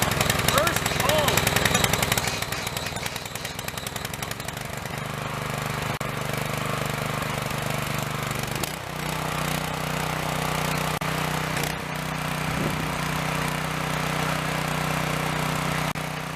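A new Harbor Freight engine fitted to an old garden tiller runs after a pull start, a steady close engine drone with a brief dip midway, loud and continuous.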